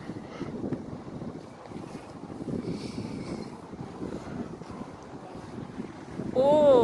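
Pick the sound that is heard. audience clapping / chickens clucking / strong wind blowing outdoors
strong wind blowing outdoors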